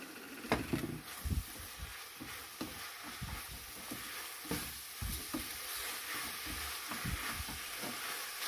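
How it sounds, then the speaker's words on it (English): Korean fish cake side dish stir-fried in a pan, with steady sizzling and repeated scraping and tossing of the spatula, close and fairly soft, no talking. "Then stir fry."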